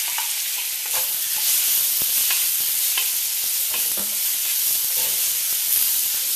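Continuous loud sizzling and hissing from seasoned beef stir-frying in a hot wok over high heat, with occasional clicks and scrapes of stirring.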